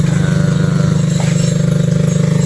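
A homemade cement mixer with a small motor and drum running on 6302 bearings gives a loud, steady mechanical drone with a fast rhythmic pulse, close up and continuous, without talking.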